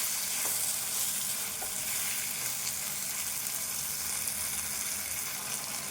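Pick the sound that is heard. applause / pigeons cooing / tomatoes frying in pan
tomatoes frying in pan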